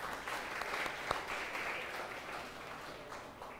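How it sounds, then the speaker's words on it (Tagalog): A church congregation gives applause for Jesus, a steady patter of clapping from many hands heard from a distance, fading slightly toward the end. "The best mong palakpak para kay Jesus."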